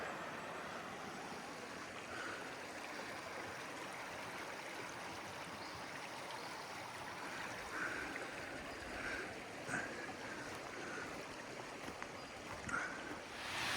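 Water flows continuously at Eastern Dam on the Thomson River, a steady broadband rush heard close and alone for the whole stretch, with faint brief bird calls scattered over it.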